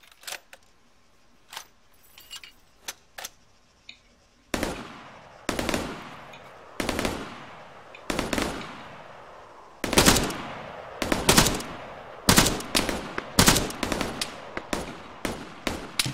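Gunfire in the video game ARMA 3 with the Epoch mod: a few faint scattered shots, then loud, rapid automatic bursts cracking in repeated volleys for over ten seconds, with no talking.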